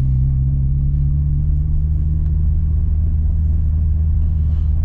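Stage 5 clutch car idling with a steady, loud low engine rumble and no clear revving, continuous and close throughout.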